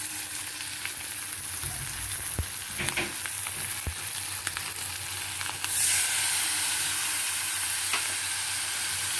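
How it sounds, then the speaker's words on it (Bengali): Ground spice masala, soaked in water with ginger, frying in a pan for a bottle gourd and prawn curry. A constant loud sizzle is broken by occasional spoon clicks, and it swells slightly when more is stirred in. "এবার ভালো করে মশলাটাকে আমি আরও একটু কষাতে থাকবো।"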